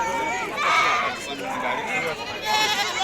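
Goats bleat again and again at a village livestock market in Maharashtra, with wavering cries overlapping nearby over a busy background of crowd chatter and voices.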